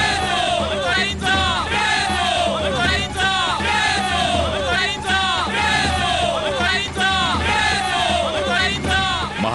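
A large excited crowd in a historical drama setting roars and cheers in rising, overlapping waves, with shouts and whoops blending into one continuous, loud din.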